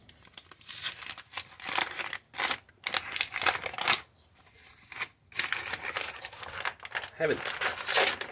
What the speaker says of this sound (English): The tape is still on there, which I'm going to break right now.